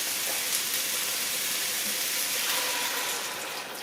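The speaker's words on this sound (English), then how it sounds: "And now we'll add our liquid. So we've got 2 quarts of chicken broth." Chicken broth, two quarts of it, pours steadily into a cooking pot, a continuous broadband splashing wash that holds level for several seconds and eases slightly at the end, close and alone.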